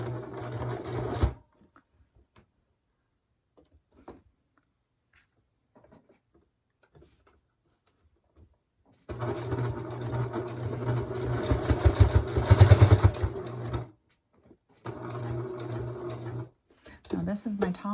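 A sewing machine stitches along the top of a wire pocket on a three-layer fabric face mask, running in loud steady whirring bursts separated by long near-silent pauses, with a final short run at the end.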